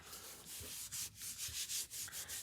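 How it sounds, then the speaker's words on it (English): Paper strips being rubbed down onto a greeting card, a close, quiet, steady scratchy rubbing in repeated short strokes with no talking. "I'm going to turn it over and rub"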